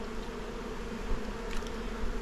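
Honeybees buzz densely around an open hive after winter, a close, constant drone of many wings with a few louder passes near the microphone.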